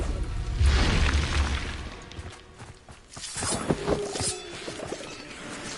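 A Bombarda spell explosion in the Hogwarts Legacy video game booms loudly and fairly close, followed by crackling debris and rumbling aftershocks.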